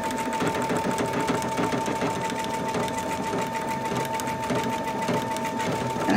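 A sewing machine runs steadily, stitching a paper-pieced quilt seam with a fast, even mechanical whir and rapid needle clatter, close up and uninterrupted throughout.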